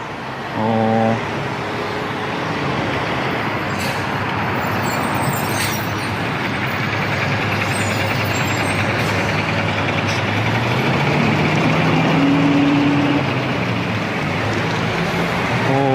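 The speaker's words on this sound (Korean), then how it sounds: "버스가 때마침 저기에서 오고 있습니다." A bus engine rumbles steadily close by, growing slightly louder as it draws nearer, with a low tonal hum rising partway through.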